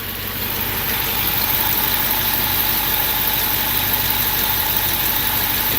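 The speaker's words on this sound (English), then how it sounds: "This literally has a tick coming from the motor" Engine of a 2012 Ford F250 plow truck with a ticking motor, idling with a steady, dense rumble and fine ticking texture throughout, close and loud, no talk.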